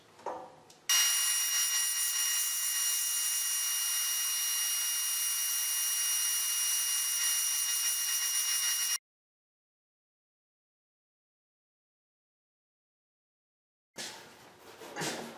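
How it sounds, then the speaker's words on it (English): A band saw with an Accu-Slice accessory cuts long cherry wood boards in a steady, high, whining buzz that holds for several seconds and then stops. After a quiet gap, a short burst of noise returns. "So there I cut 2 slices of wood, perfectly straight, perfectly parallel, 6 inches wide by 48 inch long cherry wood."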